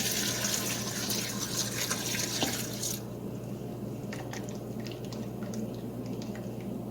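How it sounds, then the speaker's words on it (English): Hot water pours steadily over pickles for about three seconds, then stops, leaving faint drips and a background hum. "I'm going to keep getting a dipper full of hot water and pouring over these pickles."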